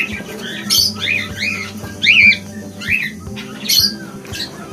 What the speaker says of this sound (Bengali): এটা হচ্ছে একটা গিরে ককাটেল,